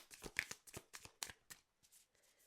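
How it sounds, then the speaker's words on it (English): Tarot cards are shuffled by hand in a run of quick, crisp riffling bursts, close and fairly quiet, with short gaps between them and a softer flutter toward the end. "I always feel bad when it takes forever to shuffle"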